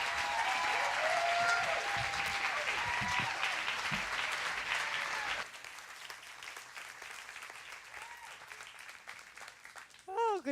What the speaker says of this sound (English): You might want to hold that applause until you find out what we're talking about today.